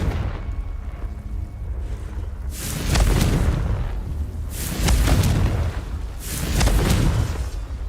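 Three heavy explosive blasts of the Confringo spell in Hogwarts Legacy, each a deep booming burst with a rumbling tail, spaced about two seconds apart after a quiet start.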